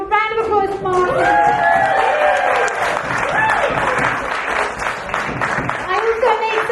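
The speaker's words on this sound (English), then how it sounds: "Well, round of applause for Martin." An audience at a live spoken-word comedy performance gives a loud, close round of applause mixed with whoops and cheering voices, swelling then easing over several seconds.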